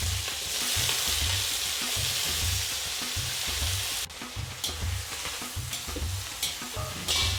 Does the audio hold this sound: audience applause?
no